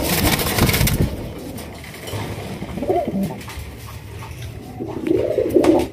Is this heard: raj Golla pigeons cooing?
yes